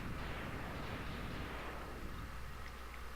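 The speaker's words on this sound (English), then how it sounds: "Glorious 16-bit explosions." Sixteen-bit explosions from the Mega Man X video game, a dense continuous roar of crackling blasts that fades slightly toward the end, with no talk over it.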